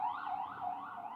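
Emergency vehicle sirens wail past on a street, a steady rising-and-falling tone heard at moderate distance and fairly faint, with no talk over it.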